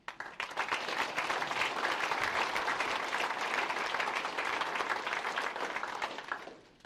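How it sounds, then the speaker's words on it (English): Applause at a team kickoff and farewell event for a coach, a dense, sustained round of clapping from an indoor audience that swells quickly and holds steady for several seconds before tapering off. "You're truly the unsung hero and deserve a round of applause tonight."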